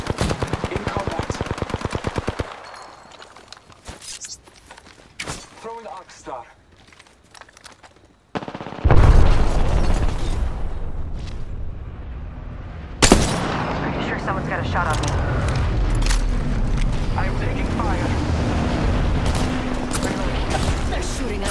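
Automatic and single gunfire in a video game firefight, loud bursts of rapid shots with booming impacts and heavy sustained fire, with game voice lines in between.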